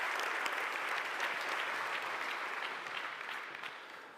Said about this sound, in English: So maybe applause for all the teams that participated.